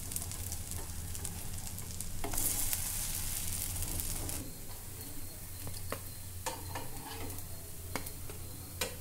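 Batter frying in a little oil on a nonstick pan for a simple breakfast tiffin, a close, steady sizzle with a few sharp scrapes and taps of a spatula turning it over.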